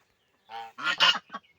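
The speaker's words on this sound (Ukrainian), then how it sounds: "А оце мої гуси Лінда." Geese honk loudly up close in a quick burst of three or four harsh calls, with no other sound around them.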